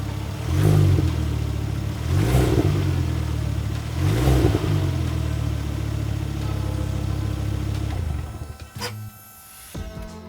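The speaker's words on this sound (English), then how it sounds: "And I thought I'd give it a few cheeky revs while I was there." A Mk2 Ford Focus ST225 with a newly fitted downpipe is revved three times in quick succession, each rise and fall loud and close, before it settles back to a steady idle with no talking.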